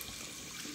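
A household tap runs steadily into a bathroom sink, giving a continuous broadband splashing rush with no talk over it.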